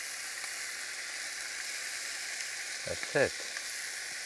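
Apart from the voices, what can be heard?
tomato frying and sizzling in a pan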